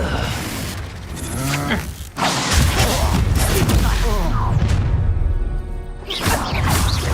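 Confringo spell blast in the video game Hogwarts Legacy, a sharp crashing boom about two seconds in followed by rumbling impact and clattering effects, with voices talking in the mix.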